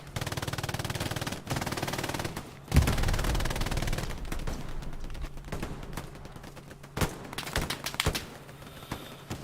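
Rapid bursts of gunfire crackle through a Hell Let Loose tournament match, dense rattling volleys with sharp individual shots and a few louder cracks, fairly loud and with no talk over them.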